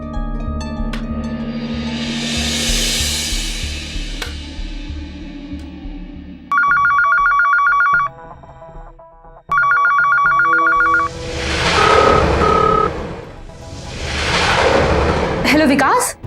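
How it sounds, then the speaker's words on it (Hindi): A telephone rings in two long electronic bursts, loud and close, between stretches of other sounds and a booming rumble. "नहीं विकास, तुम एक काम करो, एक बार वापस फोन करो।"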